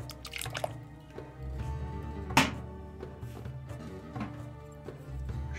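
Orange blossom water poured into a homemade licorice drink, with soft liquid dribbles and drips and one sharper splash near the middle, close up and fairly quiet.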